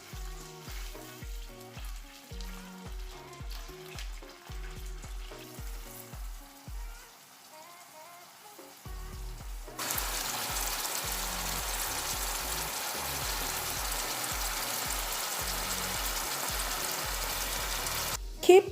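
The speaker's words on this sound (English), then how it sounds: "Continue to shallow fry until the sauce from the Mopane worm reduces." Mopane worms shallow fry in cooking oil in a pan, giving off a steady, dense sizzle that grows louder and continuous partway through, after a quieter stretch with a rhythmic pulsing in the background.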